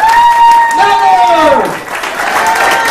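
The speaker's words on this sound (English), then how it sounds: "So another round of applause for Debi Walsh." Audience applause at a holiday networking gathering, a sustained wash of clapping that runs under a prominent speaking voice throughout, fairly loud and close.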